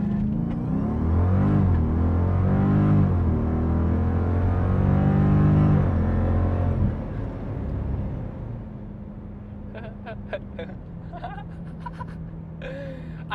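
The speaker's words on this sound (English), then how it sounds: "To launch, press brake and fully apply throttle." A 2014 Jeep Grand Cherokee SRT running on E85 launches at full throttle, its engine roaring and climbing through rising revs, then dropping to a steady lower drone with clicks near the end.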